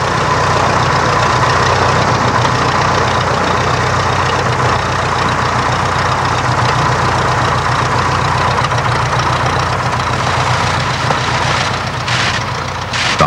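An SE-5A biplane's 150 horsepower Hispano-Suiza engine roars steadily while warming up, a loud, close, unbroken droning run with no voices.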